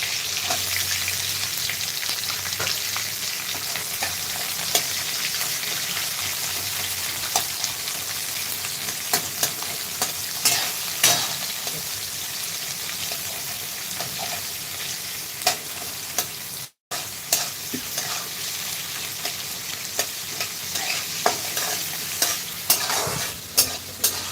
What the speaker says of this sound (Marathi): त्यासाठी जिरे मोहरी शेंगदाणे परतून घेतले हिरवी मिरची आणि कांदा